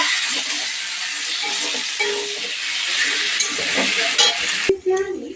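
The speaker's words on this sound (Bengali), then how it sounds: "এবার এটাকে ভালো করে কষাবো" Masala with soy sauce and tomato sauce is stir-fried in a pan, a loud, continuous close sizzle with the scrape of a spatula, ending in a sharp clink and a brief tonal sound.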